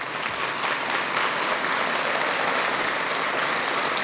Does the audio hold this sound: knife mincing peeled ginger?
no